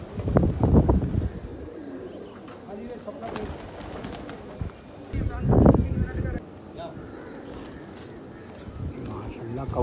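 Desi gola pigeons coo and flutter close by amid loud, busy background noise at a pigeon-flying competition, with people talking over them.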